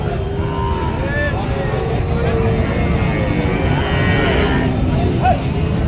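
Cattle mooing at a bustling Bangladeshi livestock market, with several drawn-out calls rising over a dense crowd murmur and background engine noise, people chattering throughout.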